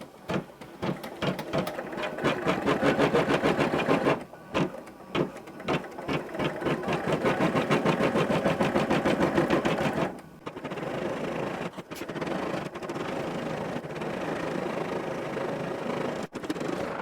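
A computerized embroidery machine stitches a yarn couching design, its needle running in a fast, steady mechanical rhythm with brief pauses and restarts, close and fairly loud with no talk.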